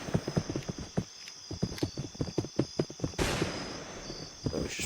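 A horse's hooves clip-clop in a steady, brisk rhythm in the western video game Westbound, followed by a burst of noisy rushing sound near the end, with no talking.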